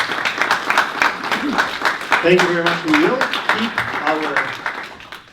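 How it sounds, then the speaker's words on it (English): At a startup demo day livestream, an audience claps for the program partners, a lively crowd applause that rises and tapers, with someone speaking briefly over the clapping. "So please make big applause for all of our partners."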